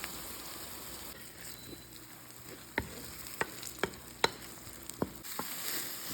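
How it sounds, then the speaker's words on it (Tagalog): Sardines frying with onions in oil in a pan, a quiet steady sizzle broken by several sharp spatula taps and scrapes, close by with no talking. "Lagay na natin yung sardinas."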